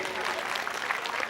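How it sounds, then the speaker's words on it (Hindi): Applause from a crowd at a stage show, a brief dense burst of clapping heard under a voice on a microphone. "एम सीरीज वीडियो कंपनी की ओर से एक जोरदार ताली हो भैया के लिए"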